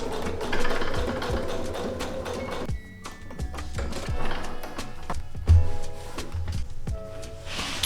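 Sewing machine stitching a dart on wide-leg pants, close rapid mechanical whirring in bursts that stop and restart, with small clicks and handling noises between runs.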